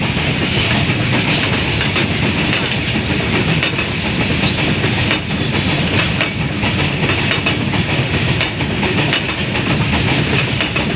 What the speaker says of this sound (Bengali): এটা একটা মালবাহী ট্রেন।